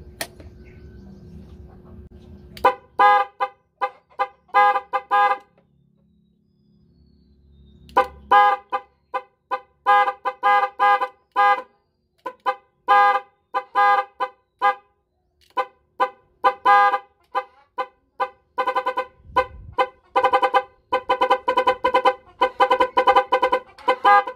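A motorcycle horn beeps over and over in short bursts while being tested after installation, some quick taps and some longer honks, loud and close with brief pauses between.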